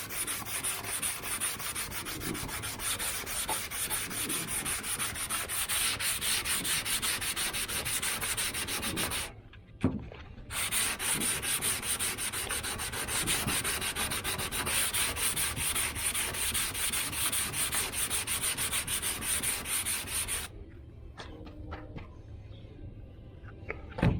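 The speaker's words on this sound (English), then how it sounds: "Just take a piece of 80 grit on a block, and what you want to do is just block it out." A car body panel with hail damage on a 2009 Mustang is hand sanded with 80 grit paper on a block, giving a steady, close rasping scrub of rapid back-and-forth strokes with two brief pauses.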